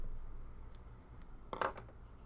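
Scissors snip during needle felting, a quiet close metallic cut with one sharper snip near the end against a faint room background.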